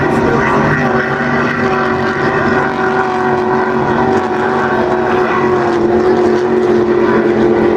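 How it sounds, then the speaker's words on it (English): A powerful racing powerboat engine roars steadily and loudly as it passes, a sustained droning whine with wind buffeting the microphone, at a Class 2 race on Lake St. Clair. "That's your second place boat in Class 2 right now going by."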